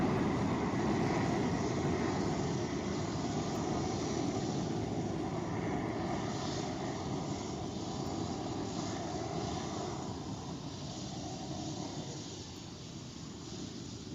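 An Astra Space rocket climbs during a launch that later failed because of an anomaly, giving a continuous, even broadband roar that holds steady and fades slightly toward the end.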